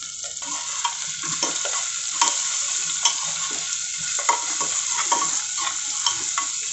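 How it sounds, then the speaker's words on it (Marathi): Onion and finely chopped tomato stir-fried in a pan for a Maharashtrian chickpea curry, a continuous sizzle with regular spatula scrapes and taps against the pan, close and clear, no talking. "कांदा गुलाबी होईपर्यंत परतून घेऊ चांगला। टोमॅटो बारीक चिरलेला आहे तो सुद्धा याच्यात टाकून घेऊयात।"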